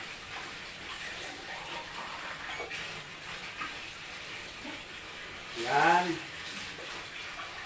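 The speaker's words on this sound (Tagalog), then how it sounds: "Lagyan muna natin ng kunting tubig kasi medyo maalat." Water poured into a salty dish while cooking in a home kitchen, a soft steady hiss running throughout at low level, with a brief spoken word near the end.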